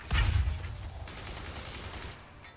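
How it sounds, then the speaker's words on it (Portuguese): Gunfire in the artillery strategy game Forts: a heavy burst of shots opens loudly, then a rumbling spray of further fire and impacts continues at a lower level to the end. "Agora começaram a atirar."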